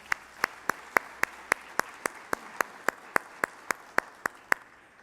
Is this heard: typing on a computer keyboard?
no